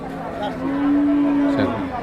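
One long, drawn-out moo from a cow at a cattle market, loud and close, ending in a brief lower grunt, with faint market chatter behind it.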